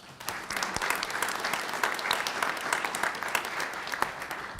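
Sustained audience applause for middle school award winners at a school board meeting, a full, even wash of clapping hands from a roomful of people, continuous throughout with no voices over it.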